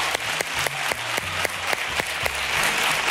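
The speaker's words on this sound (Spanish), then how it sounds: "Un aplauso para el ballet de Menuda Noche." A studio audience at a New Year's Eve TV variety show applauds the show's ballet troupe with full, sustained clapping, punctuated by sharp regular claps that keep a loose rhythm throughout.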